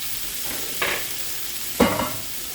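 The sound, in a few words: vegetables sautéing in pot roast pan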